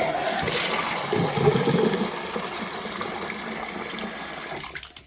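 Water running into a Mojo container to refill it for rinsing, a steady broadband rush close by that swells and thins slightly before tapering off at the end.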